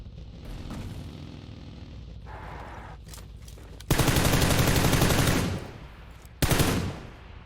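Loud automatic gunfire rattles in the video game PUBG Lite, a sustained burst of rapid shots followed by a shorter second burst after a brief pause, over quieter game ambience.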